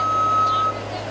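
A JLG scissor lift lowers, with a steady electronic alarm tone sounding over a low mechanical hum; the tone stops partway while the hum continues.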